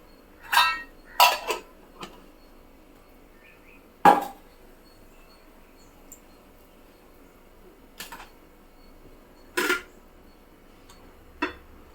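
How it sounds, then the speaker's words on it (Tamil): A knife chops onion on a board in a home kitchen in a few sparse clusters of sharp, close taps separated by quiet pauses. "கடகடன்னு வெங்காயத்தை கட் பண்ணிடலாம்"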